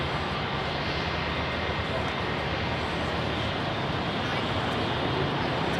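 Airbus A300 airliner turning at London Heathrow on a busy evening, a steady broad engine roar filling the whole stretch at even loudness, with people talking over it.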